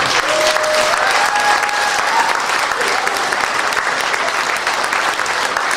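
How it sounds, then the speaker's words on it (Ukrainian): A crowd gives loud, unbroken applause at a dance show final, a thick wash of clapping that fills the whole stretch at an even level. "Ми хочемо побажати вам гарних, неповторимих і шалених оплесків."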